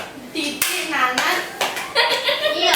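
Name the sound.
hand clapping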